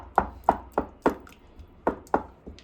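Cooked cauliflower, carrot and potato for pav bhaji are pounded with a masher in a pan, a series of about eight sharp, close, rhythmic thuds spaced roughly a quarter-second apart.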